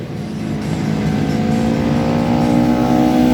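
Race cars run on a circuit and ease off the throttle under a red flag. Engine drone is loud and steady and builds slightly, with no talk.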